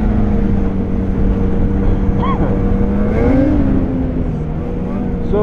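A 2021 Polaris Indy XC 850 Matryx snowmobile runs along a snowy trail, its engine droning loud and close, the pitch rising and falling as it accelerates, with a voice heard faintly under it.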